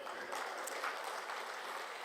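Audience applause at a comedy stage show, a quiet, even patter of many hands clapping at a distance and lasting throughout.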